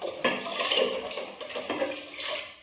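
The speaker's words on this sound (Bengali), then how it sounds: "কিভাবে হাঁড়িতে চাল আর জল দিতে হয়" Rice and water poured into a cooking pot, with uneven splashing, grainy rattles and a few sharp clinks of the pot over nearly three seconds.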